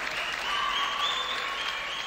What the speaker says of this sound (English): The MCW Faithful cheering him on.